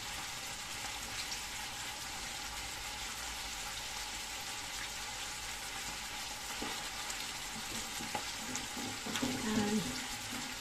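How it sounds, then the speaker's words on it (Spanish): Onion and garlic frying in a pan, a quiet, steady sizzle that runs throughout, with a few faint clinks near the end. "Ahí viene la cebollita, que se fría bien con los"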